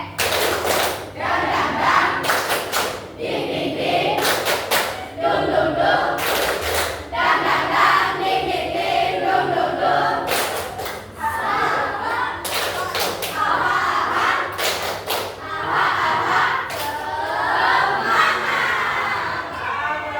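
Students stand and perform a rhythmic group clapping cheer in a classroom, with sharp synchronized bursts of claps repeating throughout, mixed with loud voices chanting and shouting together.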